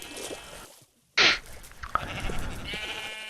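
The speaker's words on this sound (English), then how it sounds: "Finally, sheep. Give me your wool." A sheep in a Minecraft-style survival video game gives a short, loud bleat that bursts out after a moment of silence, followed by quieter game ambience.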